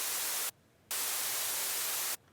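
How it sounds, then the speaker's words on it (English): Stereo white noise from a Serum noise oscillator in FL Studio, a loud steady hiss in two long bursts separated by short silent gaps. "So I kind of used this technique to create white noise."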